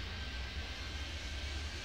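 Steady, continuous drone of a fixed-wing airplane engine at takeoff in an airport control video game, a broad low rumble holding level throughout with no talking.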